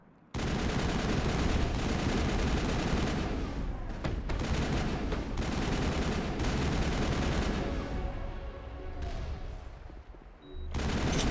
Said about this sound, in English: That turret could punch some nasty holes in the Normandy.